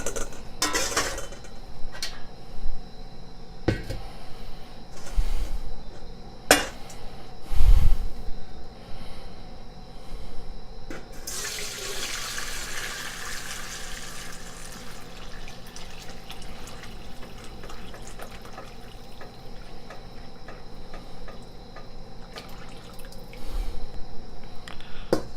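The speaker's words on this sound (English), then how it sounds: "We're going to strain it through a fine mesh strainer." Chicken stock is strained through a fine mesh strainer, with liquid pouring and splashing, a few clanks of metal cookware and a long steady stream of trickling broth, fairly close.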